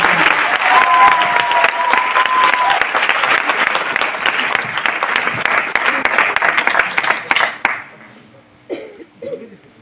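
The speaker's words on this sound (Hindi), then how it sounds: "एक बार जोरदार तालियां सभी साथियों के लिए।" Loud, dense audience applause from a team gathering in Delhi fills the room for about eight seconds, then thins into scattered claps and fades out near the end.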